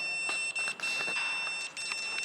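A flame-triggered fire alarm sensor buzzer on a school science exhibition model beeps in steady, continuous high tones. The sound is loud and close, with short breaks, and nobody talks over it.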